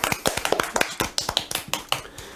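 A few French podcast hosts clap together at the end of a game, a short burst of sharp, close individual hand claps in an uneven rhythm, with no talking.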